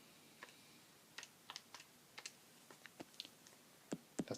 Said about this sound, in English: if you type that into your calculator